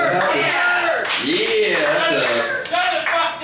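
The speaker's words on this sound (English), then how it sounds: "Tabernacle applause break" Applause and cheering from a comedy club audience right after a crude punchline, a dense wash of clapping with voices shouting and laughing over it throughout.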